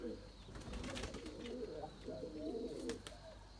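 A young male Erzurum white pigeon, still moulting, coos in low, rolling, repeated phrases close by over a faint background hum.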